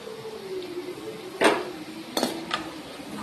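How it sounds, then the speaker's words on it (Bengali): Crispy fried coconut pakoras dropped one by one into a bowl, giving a few sharp clinks and crunchy knocks spaced over a few seconds, close and moderately loud over a faint steady background hum. "দেখতেই পাচ্ছ কতটা মচমচে হয়েছে, শব্দ হচ্ছে বাটির মধ্যে যে রাখছি"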